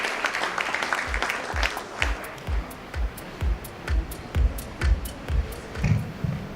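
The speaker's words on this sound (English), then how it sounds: "Let's have a huge round of applause" Applause at an evening Europe Day gathering for EU chambers as a guest is called to the stage, with scattered, uneven claps breaking into distinct rhythmic beats, moderately close and not very full.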